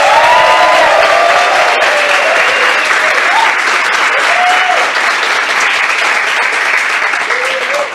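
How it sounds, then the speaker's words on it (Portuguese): Comedy club audience breaks into loud, sustained applause with scattered cheers and whoops, a dense wall of clapping that holds steady for the full stretch before easing slightly at the end. "Faça muito barulho pro Vix aí que tá recebendo o show muito bem"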